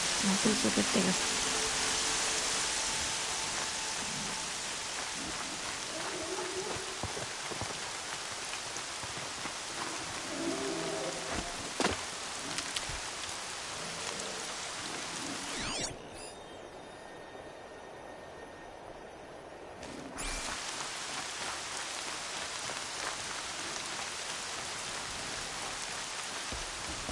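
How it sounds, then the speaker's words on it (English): Steady rain falling in a video game, a continuous dense hiss of drops throughout, briefly dipping and changing texture midway before resuming, with no speech. "More rain."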